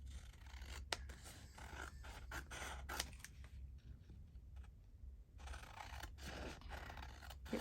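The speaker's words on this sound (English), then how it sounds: "I just cut around the edges first." Scissors snipping around the edges of paper embellishments for a Christmas journal, a quiet close series of irregular sharp cuts and small scratchy rustles, with a brief lull in the middle and no talking.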